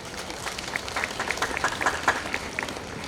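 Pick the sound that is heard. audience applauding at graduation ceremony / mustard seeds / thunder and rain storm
audience applauding at graduation ceremony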